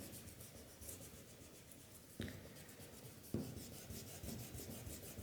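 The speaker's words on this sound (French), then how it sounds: "Et après, je peux gommer l'intérieur." A pencil eraser rubs back and forth across a paper drawing of a comic-strip character, producing soft, continuous scratchy strokes with a couple of sharper bumps, close and quiet.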